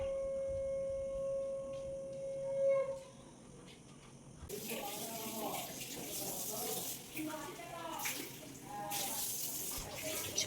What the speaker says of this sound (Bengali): চলো মুখটা ধুয়ে নিই